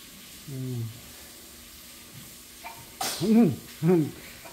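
A single sharp sneeze bursts out amid quiet room noise, preceded by a brief soft vocal sound.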